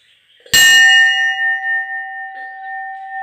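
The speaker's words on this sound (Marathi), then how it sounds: "तर आपण घंटा वाजवूया" A Ganapati temple bell in Konkan is struck once, loud and close, then rings on in a long, clear, slowly fading tone.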